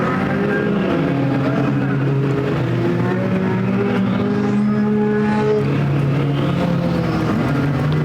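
Mini stock race cars circle Perris Auto Speedway in a dirt-track main event, a steady loud drone of several engines blending and revving continuously with no clear pauses.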